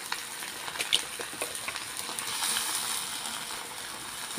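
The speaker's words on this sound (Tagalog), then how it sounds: "Lagay natin yung bok choy." Bok choy frying with onions in a hot pan, a loud, steady sizzle broken by scattered clicks and scrapes of a utensil stirring the vegetables, close up.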